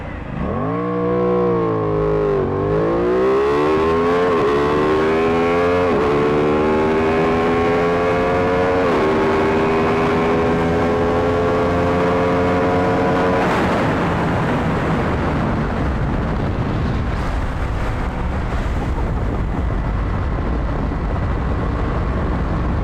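An Aprilia Tuono 660 motorcycle makes a drag run at Santa Pod Raceway, its engine screaming loud and close through a series of rising gear-by-gear revs with brief dips at each shift, then fading into a broad roar and rumble.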